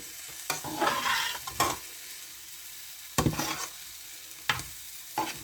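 A spatula scrapes and tosses vegetable fried rice in a hot pan, giving several quick stirring strokes spaced over a few seconds over a soft, steady sizzle, close and fairly quiet.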